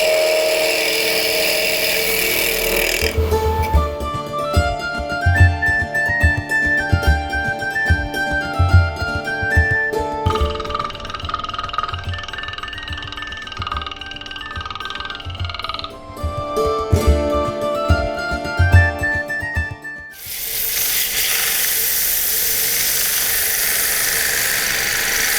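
Spinning lathe-like tool cutting and sanding a small wooden piece, whining pitched tones with rapid chattering as the tool hits air, steady and close, ending in a broad noisy burst.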